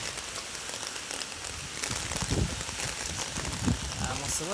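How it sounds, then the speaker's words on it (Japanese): Heavy rain pours outdoors near a car park in strong wind, a steady dense hiss filling the whole stretch, with a few low thumps and voices talking over it. "もうすごい雨やな。"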